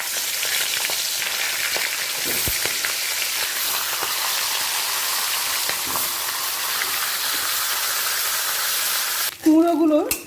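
Fish heads rubbed with salt and turmeric fry in hot mustard oil in a wok, giving a loud, steady, close sizzle. Near the end the sizzle gives way to a brief voice.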